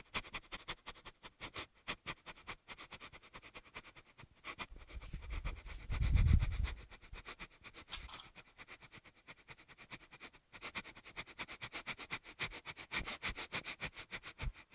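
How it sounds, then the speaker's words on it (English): Rapid, forceful nasal breathing from a Kundalini yoga breath of fire exercise, close and rhythmic, with quick sniff-like pulses continuing steadily and a heavier rumble of movement midway. "And continue the breath of fire."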